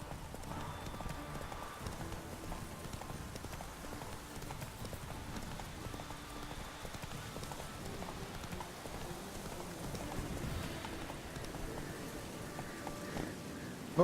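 Roach, the horse in The Witcher 3, trots along a road with a steady clip-clop of hooves over a constant patter of rain.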